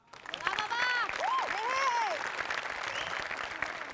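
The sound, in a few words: audience applause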